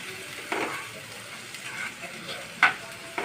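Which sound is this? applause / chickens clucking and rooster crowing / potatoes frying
potatoes frying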